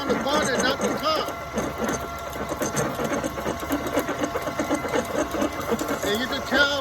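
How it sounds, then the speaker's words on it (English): A machine drills a hole in metal with coolant flowing, a steady, close mechanical whir under continuous talking. "You gotta make sure the coolant goes down the hole because it's cutting on the bottom, not the top."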